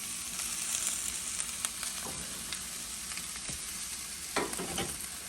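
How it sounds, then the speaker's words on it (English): Chicken fajita filling sizzles and sautés on a cookie sheet, a steady hiss of frying broken by scattered crackles and a few scraping stirs, quiet and without talk. "we're going to let these saute for a few minutes"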